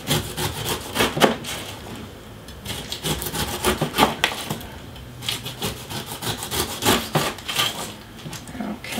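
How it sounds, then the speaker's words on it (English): A knife cutting and trimming a fresh pineapple, repeated rough scraping and sawing strokes in an irregular rhythm, close and fairly steady, with no voices. "you're going to cut your slices into about a 1/2 to 3/4 inch"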